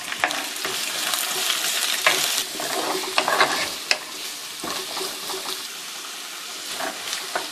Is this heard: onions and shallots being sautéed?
yes